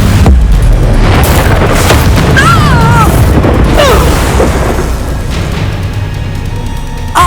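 An Incendio fire spell blasts in Hogwarts Legacy with loud, sustained booming and roaring flames, layered with whooshing magical effects and brief voice sounds.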